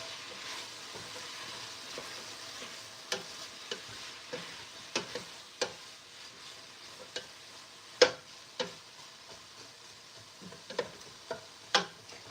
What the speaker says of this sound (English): I'm gonna go ahead and stir them because I'm afraid they're gonna burn